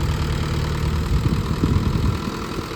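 A tractor engine pulling out of a paddy field after ploughing: a steady, moderately loud diesel chug with a low rumble, close by and continuous, with no talking.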